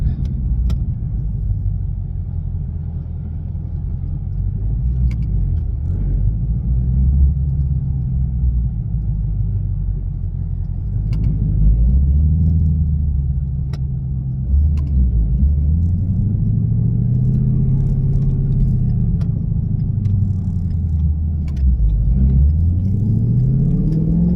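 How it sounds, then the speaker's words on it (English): A Ford Mustang GT (S550) engine drones steadily from the cabin on a highway, rising and falling in pitch through several gear shifts under load, with road rumble beneath. "Now I'm gonna see what it feels like when I'm going down the road and shifting under a load."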